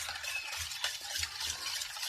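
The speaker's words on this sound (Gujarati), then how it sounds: "તેને આપણે હવે ચમચીની મદદથી હલાવીશું." Flour batter with oil and water stirred with a spoon for Gujarati festival snacks: quiet, repeated soft scraping strokes in a loose rhythm, close but low in level.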